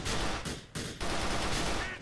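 Rapid pistol gunfire in the biker game GTA 4: The Lost and Damned, loud and dense with near-continuous shots and two brief gaps, set among other combat noise.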